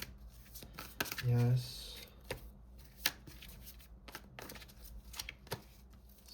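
Tarot cards are shuffled in a quick riffling burst near the start, with scattered lighter card handling and taps afterward while a person talks.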